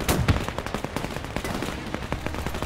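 Rapid gunfire from the World War II video game Men of War II: a dense, close fusillade of rifle and machine-gun shots crackling steadily without pause, with a couple of heavier thumps at the start.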